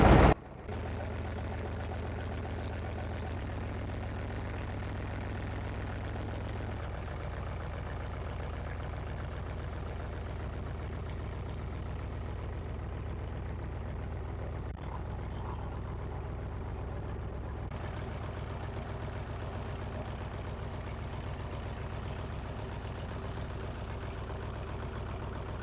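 Steady drone of a boat engine running during a ride on a deep dam reservoir, a constant low hum with no talk over it.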